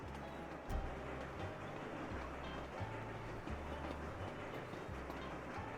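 A train running in the video game Sweet Transit, heard as a quiet, steady rumble with a repeating low rhythmic chug throughout, no voices.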